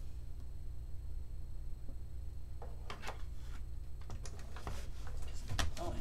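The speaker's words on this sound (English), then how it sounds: "I'm using my Stampin' Cut and Emboss machine just to cut that out" Stampin' Cut and Emboss machine cutting a scalloped-edge layer of card, a steady low rumble with a run of quick tapping, clicking bursts building in the second half.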